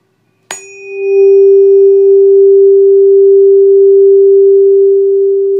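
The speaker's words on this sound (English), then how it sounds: "This time the air column's length is resonating with 384 hertz tuning fork." A 384 Hz tuning fork struck over a resonating air column, a sharp strike followed by a pure steady hum that swells and holds loud and clear for several seconds.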